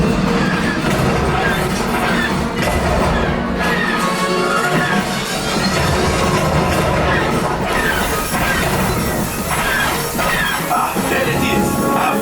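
A loud rumbling train effect with rolling, rattling wheel noise fills the Millennium Falcon Smugglers Run ride at Disneyland, sustained and dense throughout with voices mixed in.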